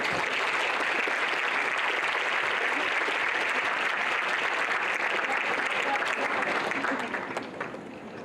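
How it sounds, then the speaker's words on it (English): An audience at a nursing pinning ceremony breaks into sustained applause, a dense, loud clapping that holds steady for several seconds before tapering off near the end. "Please give them a round of applause."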